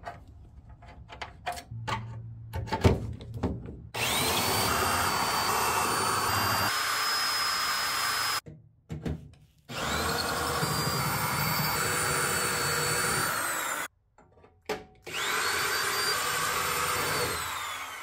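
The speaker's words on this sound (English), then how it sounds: "We have all the spot welds drilled out on the very last piece of the quarter panel." A spot weld drill bit cuts out spot welds on a car quarter panel, three long, loud, steady high-pitched drill runs separated by short pauses, after some clicks and handling at the start.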